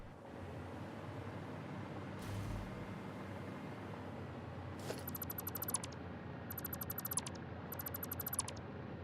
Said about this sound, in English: Oh, that's my timer.